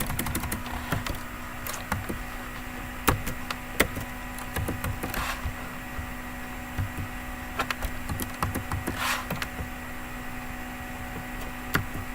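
Fast, steady typing on a computer keyboard, keys clattering in quick irregular bursts close by over a constant background hum, with no voices.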